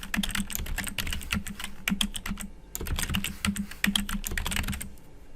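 Fast, irregular clacking of keys on a computer keyboard, in close bursts with brief pauses, recorded near and alone without talking.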